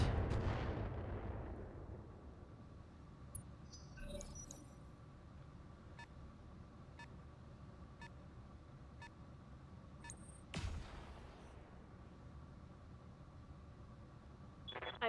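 Heavy weapons fire slams into the player's mech in a BattleTech 3061-era game, opening with a loud booming impact that rumbles away, followed by faint beeps and another hit.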